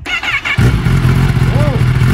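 A Kawasaki ZX-10R superbike engine cranks and then catches, settling into a loud, throbbing idle close by while people talk over it.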